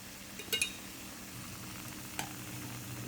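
Ground spice powders for a potato and fenugreek gravy fry in a pan with a soft, continuous sizzle. A few brief scrapes of stirring cut through it, close but quiet.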